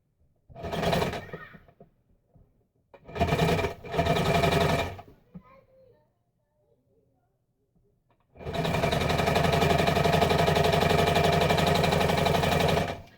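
A home sewing machine stitches a DIY tote bag: two short bursts of loud, steady whirring, a pause, then a long unbroken run of close mechanical buzzing.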